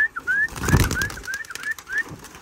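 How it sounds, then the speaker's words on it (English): Kit pigeons land, giving a brief flurry of flapping wings with faint coos and repeated high squeaky whistles from the birds, close by and without talk. "This is where I like my birds to land at, right here."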